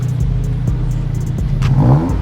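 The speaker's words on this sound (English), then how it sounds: "can I just give it a rev?" A car engine revs up sharply once, the note climbing and then falling back to a steady idle. The sound is close and loud, with no talking.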